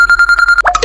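A telephone rings loudly and close by, a rapid trilling electronic bell pulsing in quick regular bursts, then cut off as the call is picked up.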